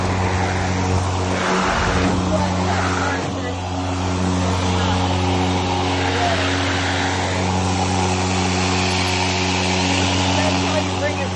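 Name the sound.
EGO 21-inch cordless lawn mower cutting grass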